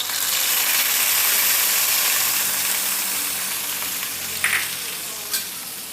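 Hot tempering sizzles as it is poured into rasam with the stove switched off, a steady bright crackling hiss that fades gradually, then a couple of small clinks near the end, close and with no talking.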